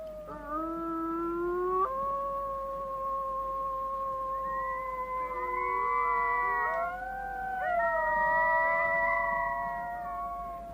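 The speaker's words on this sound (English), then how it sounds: "Mom began to howl, and the pups joined in." Arctic wolves howl together, a mother leading and her pups joining in, with long gliding overlapping tones that rise and waver, close and clear over a quiet outdoor background.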